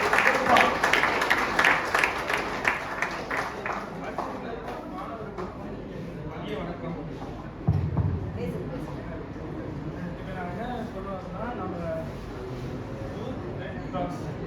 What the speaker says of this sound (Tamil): அவருக்கு ஒரு நல்ல கைத்தட்டலை கொடுப்போம்